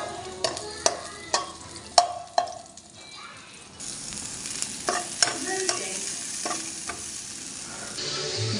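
Pancit canton noodles stirred in a pan, sharp scraping clacks of the utensil in a quick rhythm over a soft sizzle, then a louder continuous frying hiss, all close up.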